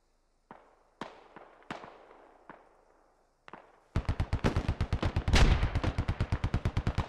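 Gunfire aimed at a fortification in the Squad Ops game: a few scattered, echoing single shots at first, then a rapid, loud, evenly spaced automatic burst that keeps going to the end.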